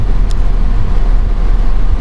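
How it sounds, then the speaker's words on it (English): A Darley compressed-air-foam fire pumper with its pump engaged and spinning, a loud steady engine-driven drone with a constant low rumble. "We're in pump mode. That pump is spinning."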